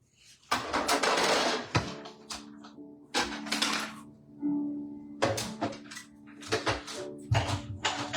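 A paper crafting die-cutting machine for stamping projects runs in several separate mechanical bursts of grinding and clicking, with quiet gaps between, close and moderately loud.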